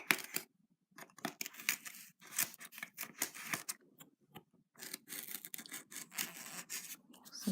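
Scissors cut out a paper picture for a homemade fridge magnet frame over a foam pad, making a string of short, crisp snips and rasps with brief pauses between cuts, close and fairly quiet, with no talking.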